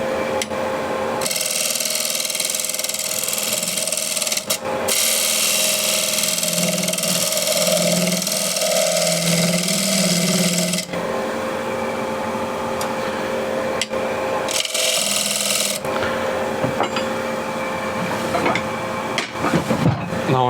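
Wood lathe spinning a wooden bowl while a 16mm ball gouge cuts it, a loud continuous rough scraping hiss over a motor hum, with brief pauses where the tool lifts off and some vibration.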